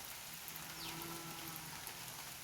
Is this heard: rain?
yes